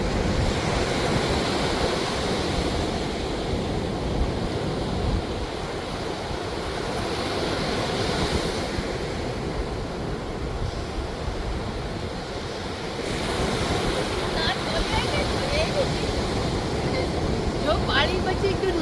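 Sea waves surge and wash against a beach near a cottage, a steady broadband roar that swells and eases over the whole stretch, with some wind buffeting the microphone.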